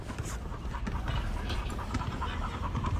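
A dog pants steadily and rapidly at close range for several seconds, a continuous breathy rhythm with faint background noise.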